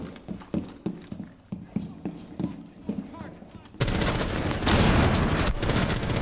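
Gunfire in a Rainbow Six Siege-style terrorist hunt game mode: a string of sharp, evenly spaced shots ring out in the first half, then a dense, sustained burst of loud rapid fire takes over to the end.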